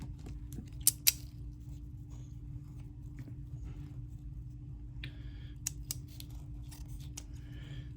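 Scissors snipping paper while making paper-and-lace page embellishments, a few short crisp cuts close by over a steady low background hum, with no talking.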